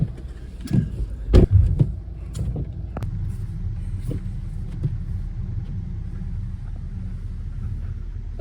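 Car engine straining to pull out of snow with a rope, a low steady rumble with a brief louder surge near the start, then a continuous droning idle, with scattered thumps.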